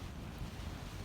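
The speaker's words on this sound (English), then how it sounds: "right now it's blowing a hoolie. The rain's pouring down" Steady roaring wind with a dense hiss of heavy rain beating on a Hilleberg Soulo tent pitched with boulders on its edges, a constant wash of noise with no breaks over a short stretch.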